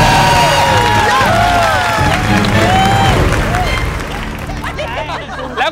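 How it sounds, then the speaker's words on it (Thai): Supporters cheering for contestant Toey on MasterChef Thailand: a loud crowd of shouting, whooping voices with clapping mixed in, holding steady then easing off slightly toward the end, with chatter underneath. "เสียงกองเชียร์เตยหน่อยครับ"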